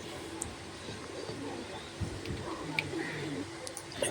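A male pigeon coos softly in low, repeated murmurs amid a quiet background hum, with a few faint clicks.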